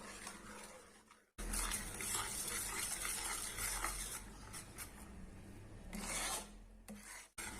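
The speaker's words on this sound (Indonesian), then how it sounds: "Masih terus lanjut kita aduk-aduk." A spoon stirs banana and palm sugar pudding in a pan with a close, continuous scraping and rasping, broken by a couple of short pauses, with no talking.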